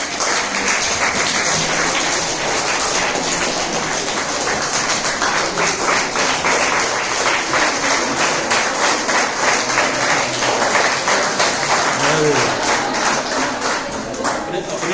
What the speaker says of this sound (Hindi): अपने लिए ताली बजा लीजिए।